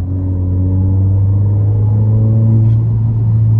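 An Alfa Romeo Giulia in normal drive mode accelerates at half throttle, its engine a steady, loud low drone heard from inside the cabin, building gently over a few seconds with no talk.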